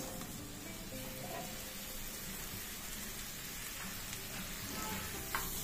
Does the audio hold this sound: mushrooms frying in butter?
yes